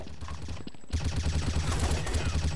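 Rapid automatic gunfire in a multiplayer shooter game, a dense, loud stream of shots that briefly pauses and then resumes even harder, with no voices over it.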